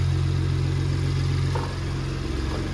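A Ford F-150 Raptor EcoBoost truck engine idling steadily up close, a low, even rumble with a slight shift in tone partway through.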